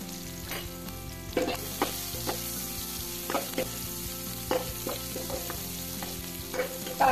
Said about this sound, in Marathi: त्याच्यामध्ये मी आता कांदा घालते।